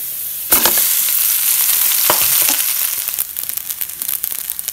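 Cold leftover rice drops into a pan with browned garlic, setting off a sudden loud sizzle, then a continuous close frying hiss with sharp scraping and clattering as it is stirred.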